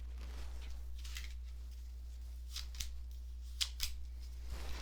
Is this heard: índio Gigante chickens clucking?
no